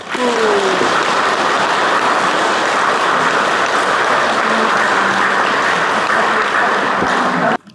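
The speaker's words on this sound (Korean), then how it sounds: "우리 전부는 박수 쳐줍니다" Dense, steady applause from a church congregation at a Catholic baptism ceremony at Chojeon parish, filling the room evenly for several seconds before cutting off abruptly near the end.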